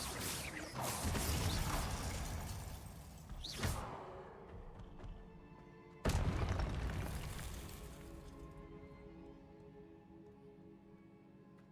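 Confringo blast spell explosion in Hogwarts Legacy, heard as a loud burst and whoosh followed by a second sharp booming blast partway through, each trailing off into rumbling decay with no talking.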